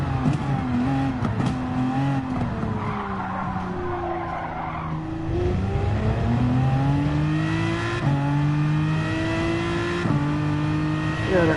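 A race car in Gran Turismo 7 revs hard through gear changes, engine pitch climbing and dropping repeatedly, with tire squeal and skidding as it corners, loud and continuous with no talk.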